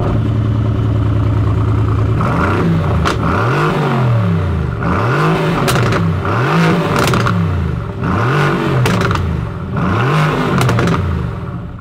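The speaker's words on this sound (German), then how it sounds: "dass wir da wirklich dieses Röhren haben, was ihr auch gleich hören werdet" A 2017 Mercedes-AMG GT R with 585 PS starts up with a low idle, then blips its throttle in a series of sharp, loud revs that rise and fall in a steady rhythm, close up and with no talk.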